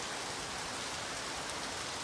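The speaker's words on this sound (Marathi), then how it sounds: "आता बघा पुन्हा पाऊस सुरू झालाय जोरात" Heavy rain pours steadily and loudly in a constant, dense hiss, recorded outdoors near Ganpatipule in Maharashtra as the first downpour of the season returns in force.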